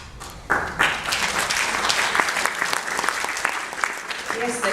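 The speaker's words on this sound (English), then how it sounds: "we all certainly deserve a round of applause" An awards-ceremony audience breaks into applause, a dense wash of clapping that swells early and holds steady, with some voices mixed in underneath.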